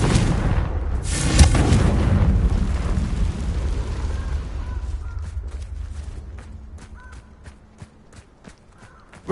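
A Confringo blasting spell in Hogwarts Legacy erupts in a loud, broad explosive roar that slowly fades over several seconds, followed by faint rhythmic footsteps and small game sounds.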